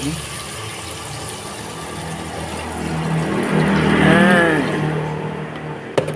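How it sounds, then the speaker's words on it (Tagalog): Water pours into a cooking pot of chicken sinigang with mango, a rising gush that swells near the middle and tapers off, with faint room noise around it. "Lagyan na ng tubig"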